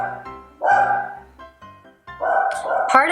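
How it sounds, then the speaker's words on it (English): A pet dog barks indoors, apparently at someone at the door, in several loud, close yaps with short gaps between them. "Pardon my dog."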